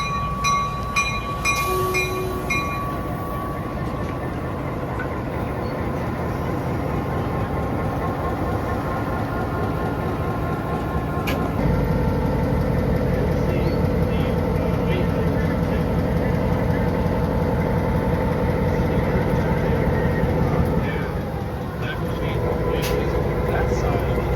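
Frisco 200 steam locomotive during a turntable demonstration on a Summerville steam special, a continuous heavy mechanical rumble with a brief horn-like tone early on, then a louder, denser rumble with clanking, while people talk nearby.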